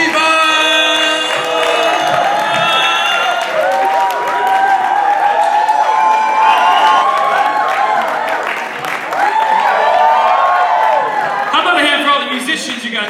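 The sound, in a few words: audience applauding and cheering to welcome comedian K-von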